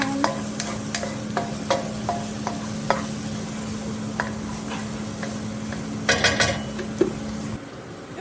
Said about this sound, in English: now it's time to add our garlic and ginger in. Okay, mix that all around